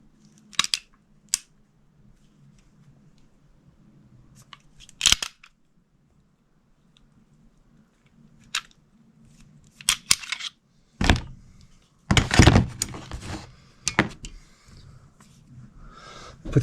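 Rifle being taken apart for cleaning after the bolt is removed from the chamber: scattered sharp metallic clicks and snaps, with a cluster of louder clacks near the end, over a quiet low hum.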